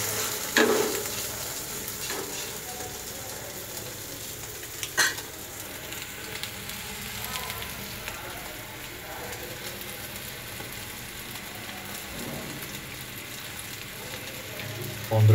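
An egg mixed with green chili, salt and onion fries in oil in a pan, giving a steady, close sizzle with a few sharp clacks of a utensil against the pan.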